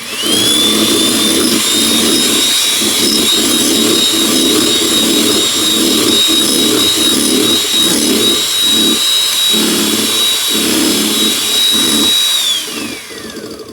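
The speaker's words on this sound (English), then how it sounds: "gradually add the sugar and sweetener while we're whisking" An electric hand whisk whirs steadily and loudly through meringue as sugar and sweetener are gradually added, a sustained motor whine with rhythmic beating pulses, then it stops near the end.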